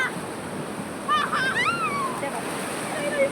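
Broadband surf of sea waves washing onto a beach, steady and moderately loud, with faint wind and a bird-like honk in the middle.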